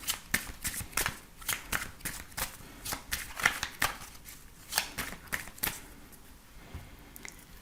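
Oracle and tarot cards are shuffled by hand in a rapid, irregular run of crisp riffling slaps, close and clear, about two per second, with no talking over them.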